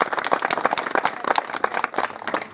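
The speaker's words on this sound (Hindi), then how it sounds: "कृपया जोरदार तालियों से इनका स्वागत करें।" A crowd at an outdoor village community event in Himachal Pradesh claps to welcome a guest, with distinct, uneven, energetic handclaps close by and continuing for a few seconds.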